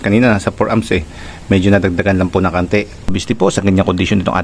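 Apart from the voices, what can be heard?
None of the usual background noises is heard.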